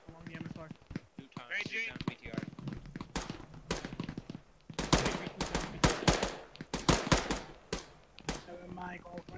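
Rifle and machine-gun fire during a military video game mission, loud sharp bursts and volleys in rapid clusters, mixed with voices talking over the shooting.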